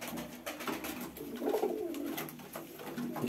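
Pigeons coo in a coop, several soft, low, throaty calls overlapping in a continuous murmur with rustling close by, and no voices.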